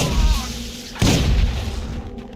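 A sudden, loud explosion in the video game Deus Ex: Invisible War hits about a second in, then rumbles and slowly fades over a steady low background.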